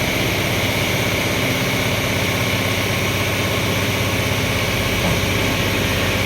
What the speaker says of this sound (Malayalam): ഇത് ഹൈഡ്രോളിക് സംഭവമാണ് കേട്ടോ, പൊക്കുന്നുണ്ട്.